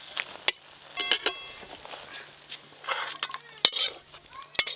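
Boiled tomato and onion are emptied from a pot, giving sharp metallic clanks and knocks of utensils against the pot. Between them comes a soft wet pouring rush, all close by and irregular.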